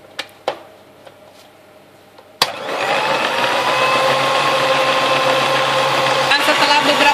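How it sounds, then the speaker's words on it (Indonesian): Electric hand mixer beating powdered sugar and butter with vanilla for a custard filling, switching on with a click after a few faint knocks and then whirring steadily and loudly to the end. "kita matikan mixer kita"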